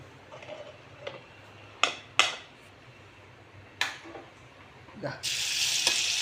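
Green gram drops into hot ghee in a pan and starts frying, with a few sharp clicks and taps of stirring, then a steady close hiss at the end, no talk.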